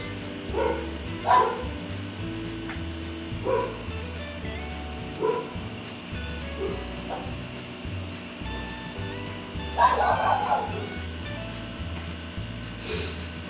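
Dogs bark in scattered bursts at a moderate distance, some single woofs and some quick doubles, over a steady low background hum.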